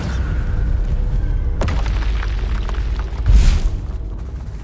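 A Bombarda blasting spell in Hogwarts Legacy sets off a deep, booming explosion over a steady low rumble, with a sharp crack early on and a heavier burst near the end.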